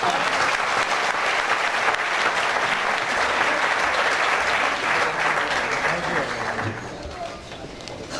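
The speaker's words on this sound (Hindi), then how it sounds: "हाँ, भाई ताली बजा दें इसके लिए जरा।" Audience applause fills a seated hall, a dense steady clapping that runs for several seconds before thinning and fading toward the end.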